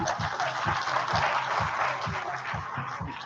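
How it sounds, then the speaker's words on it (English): An audience at an alumni award event claps in a broad wash of sound, with soft regular low thumps pulsing beneath it throughout. "A big round of applause, please."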